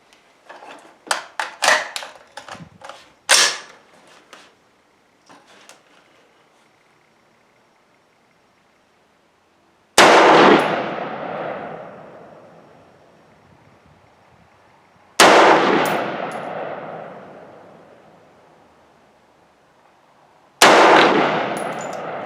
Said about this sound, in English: that's the first 3-shot group at 100 meters just to see where the bullets are going